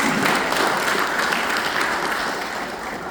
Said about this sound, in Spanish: ¿Qué tal si le da un aplauso al Señor?